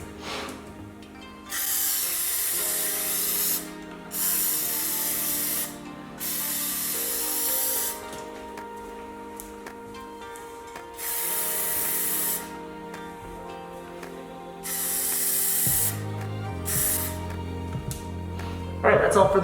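Light first coat of Plasti Dip sprayed from an aerosol can onto PS5 console covers: repeated bursts of loud, close hissing spray, each a few seconds long with short pauses between, over a low background hum.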